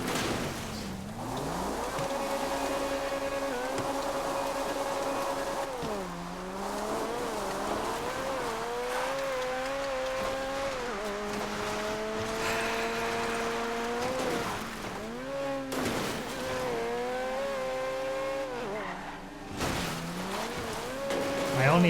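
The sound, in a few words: car engine driving, Grand Theft Auto Online video game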